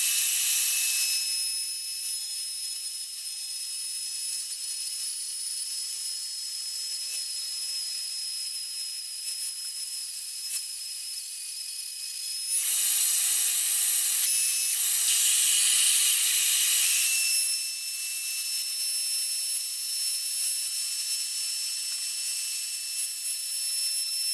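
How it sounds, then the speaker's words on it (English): A router on a circle cutting jig cutting the clamped baseboard port of a cajon, a steady high-pitched whine that grows louder and harsher partway through, then settles back, with no talking. "I can clamp the whole thing and run the circle cutting jig from the other side."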